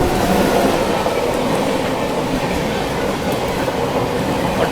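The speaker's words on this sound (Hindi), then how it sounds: "अभी देखो ये आ रही है सामने से इंडिया की लॉन्गेस्ट रनिंग गरीब रथ एक्सप्रेस" The Delhi–Chennai Garib Rath Express, India's longest-running Garib Rath, rolls past slowly on a track section under maintenance. A loud, steady broadband rumble of wheels and coaches continues throughout with faint clatter and no clear voices.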